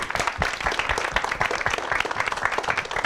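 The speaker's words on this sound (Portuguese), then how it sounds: "Uma salva de palmas pro Gui." A studio audience on a talk show breaks into steady, energetic applause, dense clapping throughout with no talk over it.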